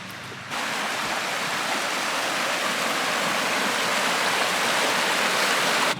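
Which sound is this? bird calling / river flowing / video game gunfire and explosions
river flowing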